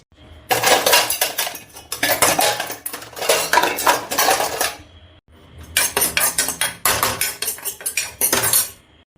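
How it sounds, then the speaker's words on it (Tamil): Metal vessels and utensils banged, dropped and thrown around in a home kitchen, in two long, loud, clattering bursts separated by a brief pause, with no talking. "இவ்வளோ சவுண்டா பாத்திரத்தை போட்டு உடச்சிக்கிட்டு அடுப்பை போட்டு கிண்டிட்டு கிடக்குது"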